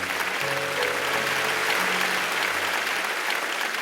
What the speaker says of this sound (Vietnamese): cho một tràng vỗ tay cho tinh thần này